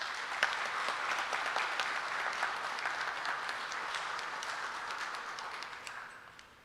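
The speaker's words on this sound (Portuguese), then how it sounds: "Uma salva de palmas para o Roberto." Audience applause for a speaker at an anniversary celebration of a Spiritist federation in São Paulo, a dense steady wash of many clapping hands at moderate distance that thins and fades toward the end.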